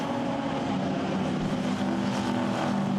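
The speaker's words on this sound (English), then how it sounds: "shake off there the XJS in the hands of Andrew Harrison coming up towards the line." A Jaguar XJS saloon race car at Silverstone roars past with a loud, sustained engine drone and steady high revs, dense and continuous over a few seconds.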